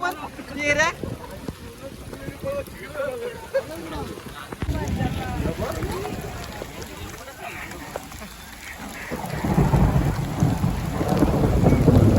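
Heavy rain falls steadily with gusty wind noise on the microphone during a palanquin procession at Apta Koliwada, while people talk and move around nearby.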